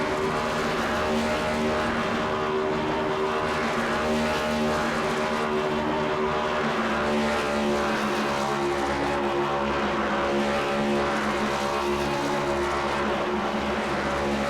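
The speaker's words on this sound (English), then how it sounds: "And the one will do his burnouts in celebration" Race car engine roaring continuously at high revs during celebratory burnouts in a stock car racing game at Chicagoland, a loud, dense, unbroken drone with tire noise layered underneath.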